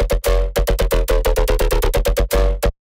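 A hard-clipped, distorted synth bass from Serum 2 plays a fast, chopped rhythm of loud, gritty stabs and ends abruptly, with no talking.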